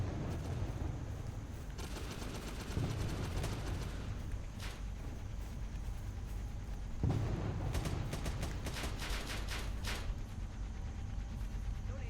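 Bursts of gunfire in a Vietnam War video game, a dense rattling volley early on and another cluster of rapid shots later, over a constant low rumble of game ambience.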